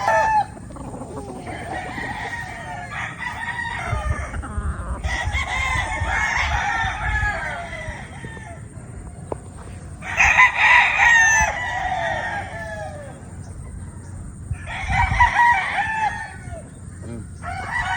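Roosters crow repeatedly in long drawn-out calls, with hens clucking between them; close and loud, several crows over about eighteen seconds, on a gamefowl farm.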